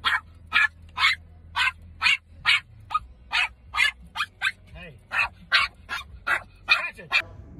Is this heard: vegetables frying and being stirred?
no